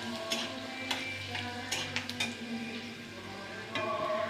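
Panch phoron spices frying in hot oil in a wok with dried chillies and bay leaves: a steady close sizzle with scattered light crackles and ticks, no talking.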